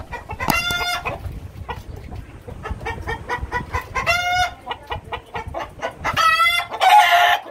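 Several Fayoumi chickens cluck in short rhythmic bursts close by on a poultry farm, with a few louder squawking calls rising above the steady clucking.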